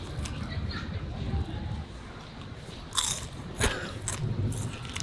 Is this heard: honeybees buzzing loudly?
no